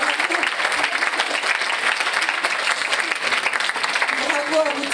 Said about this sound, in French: Bravo sous vos applaudissements.